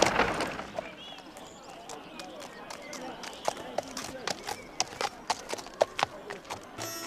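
Horses' hooves clip-clop in a steady run of sharp, distinct knocks that grow louder and more prominent toward the end, over a low background with faint voices.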